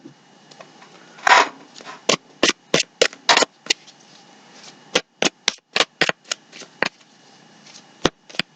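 Crisp riffles of a card deck being shuffled, a dozen or more quick bursts in an uneven rhythm, close and clear, with quiet gaps between.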